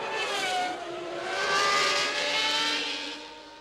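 A Formula One car storming out of the pit lane during a Grand Prix, its high-pitched engine screaming loud and rising in pitch as it accelerates past, then fading slightly.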